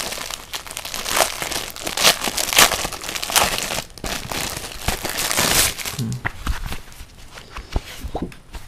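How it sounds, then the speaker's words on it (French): Holiday gift wrap paper printed with food designs is handled and crinkled up close, a steady run of loud crackling and rustling bursts with no speech. "Qu'est-ce que c'est que ça? Ah, c'est du papier cadeau."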